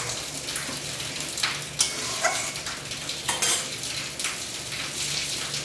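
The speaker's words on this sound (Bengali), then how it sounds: "নাড়া দিলাম" Mustard-based fish curry sizzling and bubbling in a pan while being stirred, with steady frying hiss and occasional clinks and scrapes of a utensil against the pan, close and continuous with no talking.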